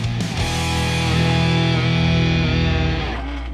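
A Ford Thunderbird drag race car in NMRA Coyote Stock launches hard with its front wheels lifted, its engine roaring loud and close in a thick, sustained, harmonic drone.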